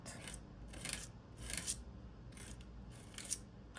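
A tool scrapes texture paste across a stencil for craft gift tags, a series of soft, rhythmic rasping strokes repeating about every half second, faint and close.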